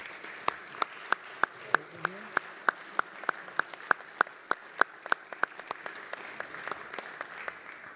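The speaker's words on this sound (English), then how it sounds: "Let's give a round of applause to Anastasia and to Caitlin." Sparse, distinct claps at a city council meeting, a small number of people clapping in a loose rhythm that thins out and fades toward the end, fairly quiet and with no talking.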